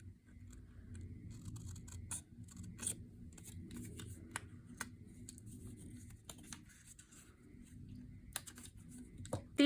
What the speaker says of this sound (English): where we're going to trim off our tabs